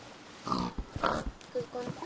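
A Minecraft pig grunts in short snorting bursts, several quick oinks spaced irregularly, moderately loud, with some voice-like sound mixed in.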